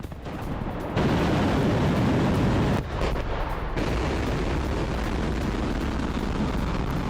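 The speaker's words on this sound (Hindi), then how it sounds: "यूक्रेन की 4 एटीएसएम मिसाइल हवा में तबाह हो गई है।" Missiles are destroyed in the air, a series of deep booming blasts and rolling rumbles. Several loud bursts run into one another over a continuous roar, with no speech.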